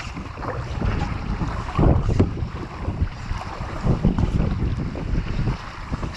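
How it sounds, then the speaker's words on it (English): Strong headwind buffeting the microphone while kayaking on the Ashby Canal, a constant loud low rumble with gusty surges and faint water lapping underneath. "I've got the wind right in the face now"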